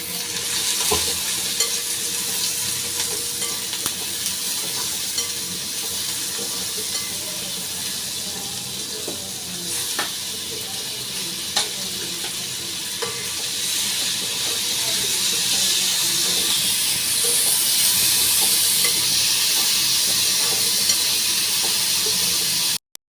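Ridge gourd seasoned with sambar powder and salt sautés in a pan for a South Indian kootu, producing a continuous hissing sizzle with occasional stirring clicks that swells louder toward the end.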